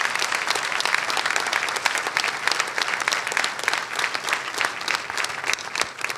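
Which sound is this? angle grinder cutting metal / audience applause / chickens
audience applause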